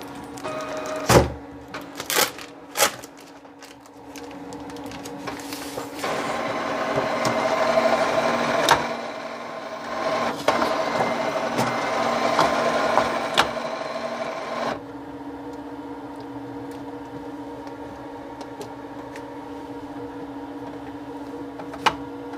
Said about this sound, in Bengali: আমরা আমাদের মেশিনে কিছু পেপার দিয়ে দিচ্ছি, যে পেপারে আমরা প্রিন্ট করব